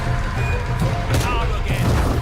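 Gunfire in the video game Shadow of the Tomb Raider, a dense run of booming shots and crashes over a continuous loud game soundscape, with several sharper blasts standing out near the middle.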